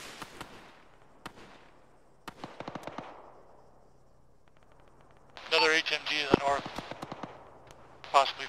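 Gunfire in the Arma military video game: sparse single shots and short rattling bursts, some distant, then a loud close-up volley, while a voice talks.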